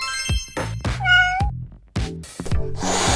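A cartoon cat gives a few clear, close meows, one drawn out and rising, alongside light animated sound effects with no talking.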